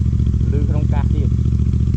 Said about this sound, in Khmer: សលេងម៉ូតូលឺក្នុងកាសទៀត